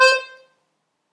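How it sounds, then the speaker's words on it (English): A single short accordion chord sounds loud and close, then fades out within half a second, followed by silence. "This one is a very special instrument called the accordion."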